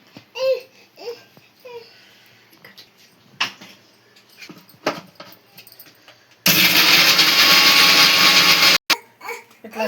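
A mixer grinder grinds cashews, melon seeds, coconut and four garlic cloves into a paste, a loud steady whir starting partway through, running about two seconds and stopping briefly before resuming, after quieter kitchen sounds.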